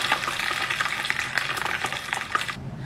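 Bamboo weevils fry in hot oil with a loud, dense, close sizzle and rapid crackling pops for nearly three seconds, cutting off abruptly at the end, with no voices.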